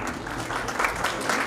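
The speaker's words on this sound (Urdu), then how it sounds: "تو ذرا ایک بار اپنے آپ کو تالیوں سے داد دے کے دیکھیں" Clapping from the audience at a mushaira, an Urdu poetry evening in California, a short burst of dense, close applause that stays even throughout.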